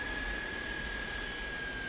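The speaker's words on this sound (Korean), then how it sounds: "이제 출발하는 비행기." A jet airliner's engines roar steadily as it departs in the film Sully, a constant loud rush with a thin high whine and no voices.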